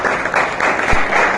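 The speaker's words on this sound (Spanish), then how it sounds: "démosle un aplauso a ellos, por favor," A church congregation gives a short burst of dense, steady applause, many hands clapping together at close range for about a second and a half.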